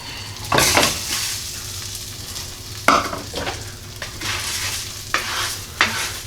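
Arborio rice being stirred in butter in a pan for mushroom and black truffle risotto: loud, close scraping strokes of a spoon at irregular intervals over a faint sizzle, with no talking.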